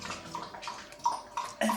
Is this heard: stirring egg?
no